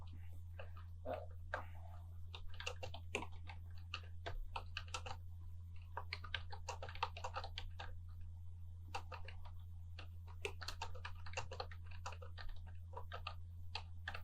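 Someone types on a computer keyboard while formatting an Urdu document in Microsoft Word, producing quiet, steady clicking in uneven bursts over a constant low electrical hum.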